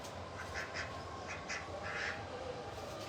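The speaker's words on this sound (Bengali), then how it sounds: "হাঁস নিয়ে আইলাম" A duck quacks several times in short bursts, fairly close but not loud, over steady outdoor background noise.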